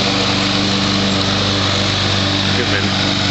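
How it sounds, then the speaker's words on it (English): A lawn mower engine runs steadily as grass is cut in a yard, a loud constant drone with no breaks. "So now he's mowing the grass."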